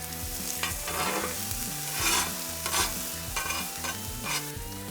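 Onions fry and caramelize on a griddle with a bright, crackling sizzle that swells in short surges, heard beneath steady background music.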